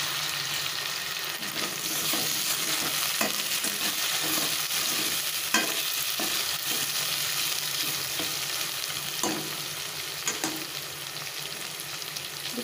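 Tomatoes fry with ginger and garlic for cucumber curry, giving a steady, dense sizzle that holds throughout, with occasional soft clicks of stirring in the pan and no voices.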